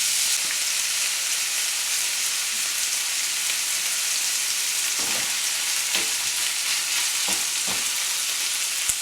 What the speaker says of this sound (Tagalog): lulutuin lang natin yung pork hanggang sa mag-color medium brown na yung labas nito